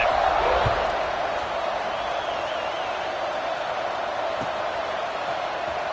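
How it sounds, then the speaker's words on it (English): Roar of a football stadium crowd cheering during a kickoff, a steady, dense wash of noise with no breaks. "this crowd is feeling themselves after that last drive"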